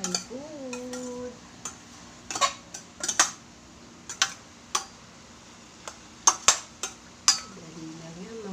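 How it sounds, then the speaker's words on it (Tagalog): Food being sautéed in a pan with a utensil gives scattered metallic clicks and scrapes at an irregular rhythm, faint and close, while a voice speaks briefly at the start and end. "Gisa-gisa lang tayo."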